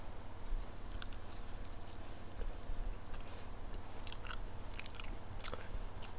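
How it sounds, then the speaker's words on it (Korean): Leftover fried chicken, not crispy, being bitten and chewed up close, with repeated crunchy bites and mouth sounds over a steady low background hum. "그런 의미에서 오늘은 치킨을 한번 시식해 볼 거예요."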